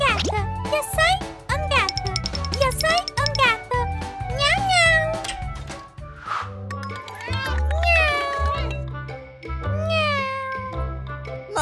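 A child imitates a cat with a series of rising and falling meows, repeated throughout over a bright musical backing with tinkling jingles.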